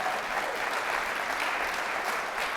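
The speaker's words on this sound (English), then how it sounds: "Would you give me a round of applause for that idea?" Steady applause from a conference audience fills the space evenly and moderately loud, a continuous wash of clapping with no voices standing out.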